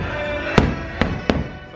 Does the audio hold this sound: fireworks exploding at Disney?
yes